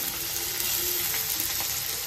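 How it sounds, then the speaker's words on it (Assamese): Onion and green chili sizzling with five-spice in a pan, a steady close hiss of frying oil throughout with no talking. "আৰু অকণমান ৰঙচুৱা হোৱালৈকে ফ্ৰাই কৰিম তেনেকৈ ভাজি ল'ম"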